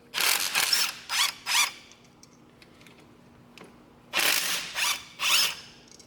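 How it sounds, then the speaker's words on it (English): Ratchet loosening the 14 mm brake caliper bolts on a Hyundai Santa Fe, heard as close, quick bursts of clicking in two groups separated by a short pause. "Next, I'm going to remove our two 14 millimeter"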